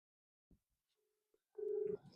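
A phone call connecting: a faint click and a short thin tone, then a louder steady ringback tone that sounds once near the end and stops, with no voices.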